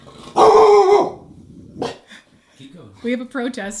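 Dog barks loudly in a short burst, then sounds off again more briefly a moment later, mixed with people talking nearby during a cross-stitch chat.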